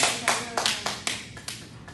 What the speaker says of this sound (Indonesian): Tepuk tangan untuk Mas Ryan.